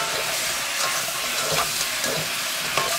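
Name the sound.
stirring frying pork in sauce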